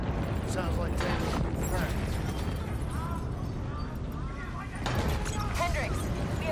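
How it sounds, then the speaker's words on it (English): Repeated explosions boom across a facility in the video game Black Ops 3, a dense, continuous roar of blasts and rumbling debris with voices speaking over the chaos. "we have multiple explosions across the facility"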